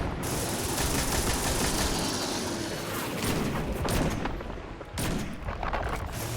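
Dense rapid gunfire from the video game Destiny 2 rattles almost continuously, with heavy blasts and a brief pause before the shooting resumes, loud and close.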